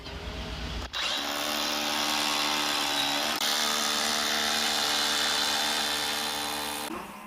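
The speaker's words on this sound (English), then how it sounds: "you need to drill holes every 2 centimeters and then use a chisel to break through between them" A power drill bores a row of holes spaced every 2 centimeters, to be broken through with a chisel in a forest building project. After a brief start it runs as one loud, steady motor whine for about six seconds, then stops.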